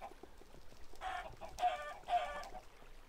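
Minecraft chickens on a farm give a few short clucking bursts, quiet and close, spaced about half a second apart against a faint background.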